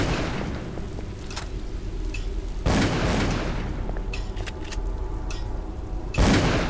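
Gunfire in the horror game Call of Cthulhu: Dark Corners of the Earth, fought against an alien creature: loud booming shots at the start, near 2.7 seconds and again near 6.2 seconds, over a dense rumbling background.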